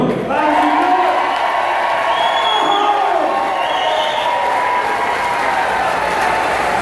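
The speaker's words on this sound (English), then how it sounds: "How about another round of applause for Beto?" A large crowd at a Beto O'Rourke campaign rally in Victoria, Texas claps and cheers loudly, with whoops rising over sustained applause that carries on throughout.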